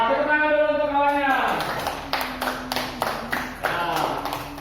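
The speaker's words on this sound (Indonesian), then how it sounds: "Tepuk tangan dulu untuk kawannya." A school class claps for classmates, a burst of scattered applause from many pairs of hands in a classroom that follows a speaking voice and goes on with uneven, overlapping claps.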